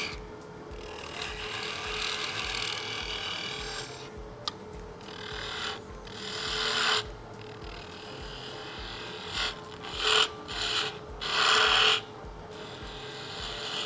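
Turning tool shaping the outside of a wooden box on a lathe: a steady motor hum under continuous scraping and rasping cuts, with louder bursts of cutting toward the end.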